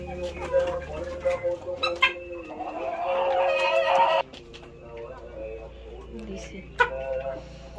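Tiger breed chickens about three and a half months old cluck on a poultry farm, with several nearby clucks and calls over people talking.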